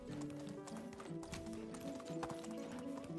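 A horse galloping in the medieval village game Medieval Dynasty, its rapid rhythmic hoofbeats clopping steadily and close over a quiet musical background.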